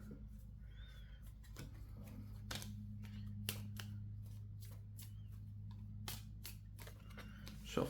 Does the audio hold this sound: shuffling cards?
yes